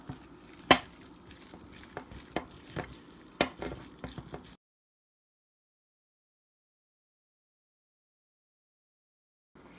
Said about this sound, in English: And we're gonna mix it all up.